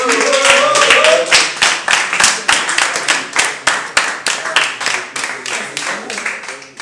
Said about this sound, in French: maximum d'applaudissements